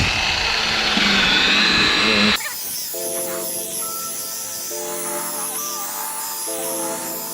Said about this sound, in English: So now we are ready to polish the headlight.